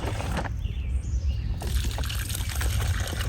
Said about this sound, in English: So I'm going to put my swamp water in,